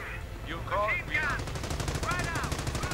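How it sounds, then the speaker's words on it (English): Anti-aircraft fire from a half-track in a World War II strategy game, heard as rapid automatic gunfire bursts under a caster's commentary and other battle sounds, fairly quiet in the mix. "At least AA fire from the half-track."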